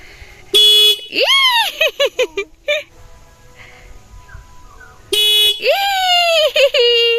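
A scooter horn honks in two bursts, a long blare followed by several short toots, then another long blast with quick beeps; a voice and adult chatter sound faintly around it.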